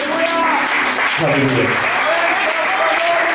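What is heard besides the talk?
congregation applauding in church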